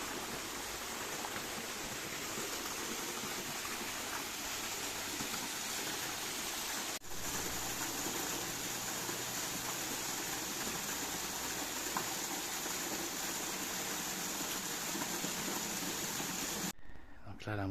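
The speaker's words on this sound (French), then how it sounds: "la petite cascade de Lafond. Elle est très belle aussi" The small Lafon waterfall cascade in Cantal, near a lava dome, gives a steady, dense rush of falling water that continues without a break for the whole stretch, with a brief bump near the end.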